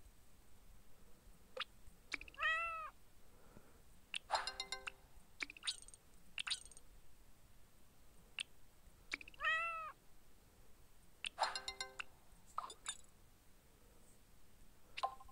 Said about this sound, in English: My silly little cat.